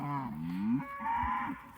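A Nguni cow gives a close, full-throated moo that rises and falls, followed by a second shorter lowing call, heard clearly on its own.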